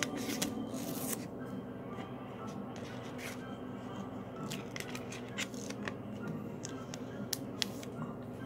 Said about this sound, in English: having to use scissors.